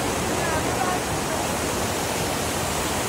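A waterfall in Hamadan, Iran, gives a steady, close, broadband rush of falling water that fills the whole stretch without letup.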